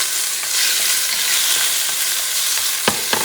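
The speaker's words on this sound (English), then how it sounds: "I'm going to add my tocino, pepper." Tocino and pepper fry in a pot for a lobster stew, a loud steady sizzle with a couple of sharp stirring scrapes near the end.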